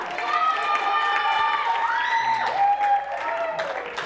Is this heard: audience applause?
yes